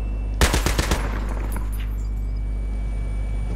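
Gunfire in the video game Battlefield 3, a short, loud burst of about half a dozen rapid shots followed by a steady low background rumble.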